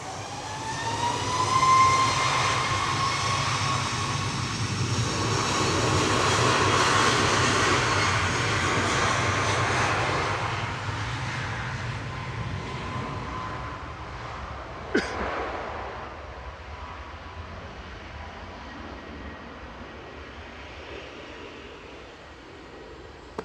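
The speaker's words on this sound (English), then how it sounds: "Ryanair departing first" A Ryanair jet departs Manchester Airport, its engine roar building and holding loud for several seconds before slowly fading into the distance, with a single sharp click near the end.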